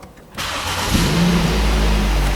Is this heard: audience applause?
no